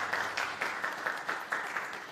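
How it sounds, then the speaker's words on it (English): An audience applauds marathon winners at the Tokyo Marathon 2021 awards ceremony, a short burst of moderately distant clapping with soft, evenly spaced peaks. "Please give them a big round of applause."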